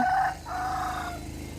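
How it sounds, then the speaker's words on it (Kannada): A rooster crows nearby in a village street, one loud, drawn-out call that breaks briefly and then carries on to fade, heard alone without talk. "ಹುಂಜ ನೋಡ್ರಿ ಎಷ್ಟು ಕೂಗಾಕತ್ತೈತಿ"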